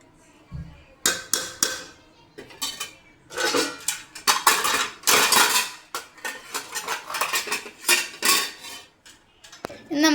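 A metal spoon stirring prawn biryani in a pot, loud clinking and scraping strokes in irregular bursts against the metal vessel, close up with short pauses between strokes and no talk.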